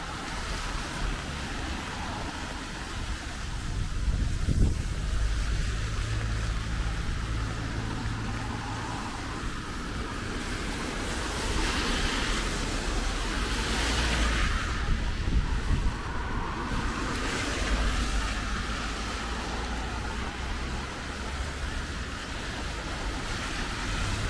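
Steady wind roars outdoors in Tamworth with a broad hiss of rain, swelling and easing in gusts over a long stretch on a wet, slightly windy day, with no talking.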